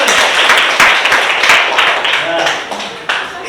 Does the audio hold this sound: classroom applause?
yes